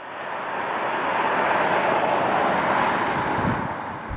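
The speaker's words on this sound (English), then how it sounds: "you hear a lot of road noise and tire noise" Steady broadband road and tire roar fills the cabin of a 2017 Tesla Model X at speed, a constant whooshing rumble without engine sound, swelling slightly and holding level throughout.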